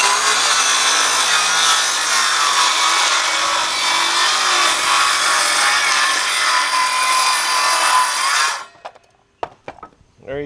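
An old Frick sawmill's blade rips through wood, cutting stickers and trimming boards in a loud, steady, continuous saw for about eight seconds, then stops abruptly, leaving a few faint knocks and clatters.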